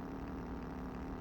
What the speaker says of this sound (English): I like that we can softly hear the engine roaring.